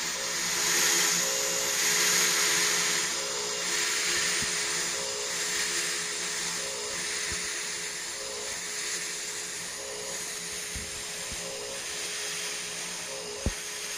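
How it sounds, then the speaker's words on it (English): A 700-watt fog machine from 2012 running with a 1/4 inch fog chiller adapter, giving a steady loud hiss and hum with a few faint knocks, with no talk. "that is an old ass machine I got in 2012"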